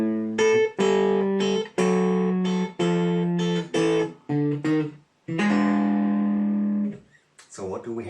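Blues guitar turnaround played with the top note in eighth notes over a descending quarter-note bass run, clear plucked guitar notes in a steady rhythm ending on a sustained chord, close and moderately loud.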